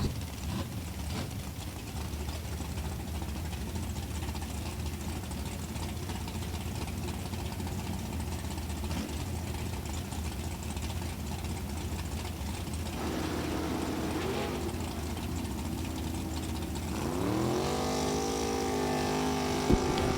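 Drag racing cars, a 1970 Chevelle and a Camaro, heard as a continuous low engine rumble at a raceway, with a rising, revving tone near the end.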